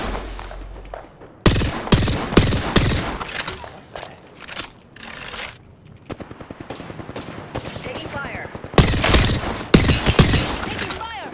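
Loud rapid gunfire in the Apex Legends video game, with bursts of automatic weapon fire and single shots in repeated volleys, close and dense, alongside game effects and brief talk.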